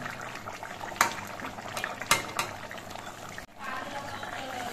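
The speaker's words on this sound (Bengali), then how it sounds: "ধনেপাতা দিয়ে আমি মিনিট 2-1 মতো ঝোলটা ফুটিয়ে নিয়েছি।" Khoira fish curry with coriander leaves bubbling at a steady simmer in the pot, a soft continuous seethe with a few brief clinks and splashes, fairly quiet and heard alone.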